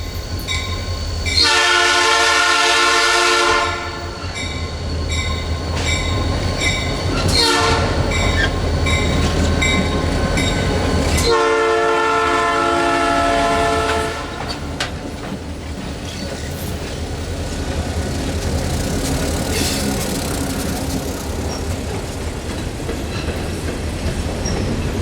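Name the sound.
Blue Ridge Southern train T31 running downhill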